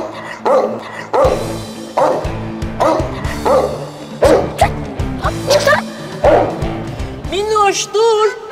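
A dog barks in a sharp, evenly spaced series of loud yaps close by, ending in a few whimpering whines, with people talking over it.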